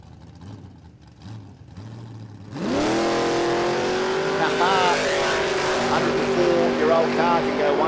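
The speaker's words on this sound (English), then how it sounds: "Noel Inman beside the nitrous Windsor-powered 1922 Ford Senador." Nitrous-fed Windsor V8 in a 1922 Ford drag car launches hard at a drag strip, a loud roaring engine surging in from a quieter start and holding a sustained, rising howl to the end, with crowd and commentary faintly beneath.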